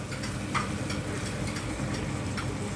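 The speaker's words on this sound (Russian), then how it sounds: "я взяла другую сковородку и буду немножко поджаривать баклажаны" A steady, crackling sizzle of eggplant frying in a hot pan, continuous and close, with no voices.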